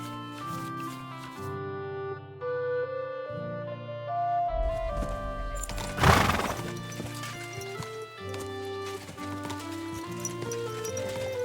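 A horse whinnies in Kingdom Come: Deliverance II amid layered music and hoofbeat clip-clops, with a sharp crash in the middle of the sequence.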